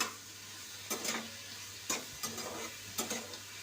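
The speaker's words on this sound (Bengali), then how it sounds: "ভালো করে কষিয়ে ভালো করে ভাজলেন" Potato and cucumber frying with salt in a pan, soft sizzling with a few sharp scraping stirs at irregular intervals, fairly quiet and close.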